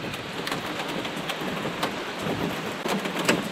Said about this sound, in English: So it's hailing.